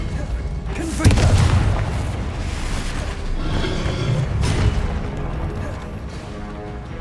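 A Confringo spell explodes in Hogwarts Legacy, with a loud booming blast near the start and another muffled boom later, under a player's voice casting spells.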